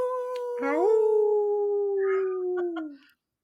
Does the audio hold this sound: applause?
no